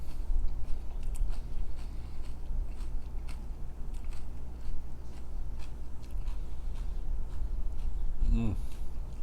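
Close-up crunchy chewing and biting of green salad, with irregular crisp crackles over a low murmur, and a brief voiced sound near the end.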